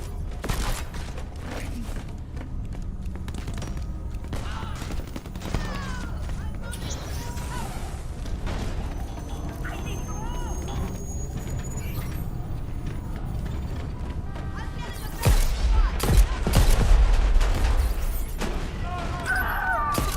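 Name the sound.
Conqueror hand cannon gunfire in the video game Crackdown 3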